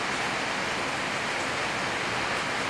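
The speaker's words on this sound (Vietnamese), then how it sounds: "bây giờ trời đang mưa này" Steady rain in the video game Tập Kích on the Venice map, a dense, even hiss of falling water with no pauses, filling the whole moment.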